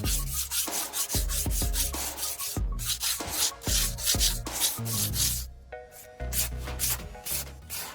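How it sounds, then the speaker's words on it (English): Sandpaper rubs hard over a roof surface during a leak repair, giving a loud, continuous gritty rasp with uneven strokes and occasional bumps, heard close up with no speech. "Once brushing is complete, use sandpaper to smooth the surrounding area"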